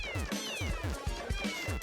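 Repeated cat meows from the video game I Want, a rapid string of close, clear mews in a steady rhythm over continuous game music.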